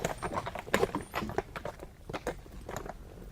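Hooves of a horse-drawn carriage clip-clop in an uneven walking rhythm, moderately close and fairly quiet, with no talking over them.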